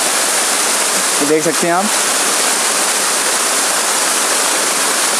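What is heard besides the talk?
waterfall in a hidden mountain stream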